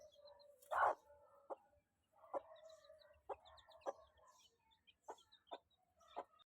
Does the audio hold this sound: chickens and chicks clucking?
yes